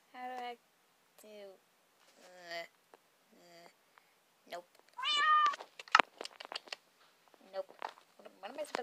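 A cat meows repeatedly at close range, several distinct drawn-out calls in a row, followed by scattered quick clicks and rustling.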